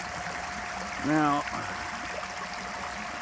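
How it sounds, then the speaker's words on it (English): River water runs around an S curve near a fallen log at a gold panning spot, a steady outdoor rushing wash heard throughout, with someone briefly speaking over it. "water flows down, comes down to this S curve"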